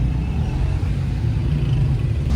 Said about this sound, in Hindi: गाड़ी पीछे हो रही है।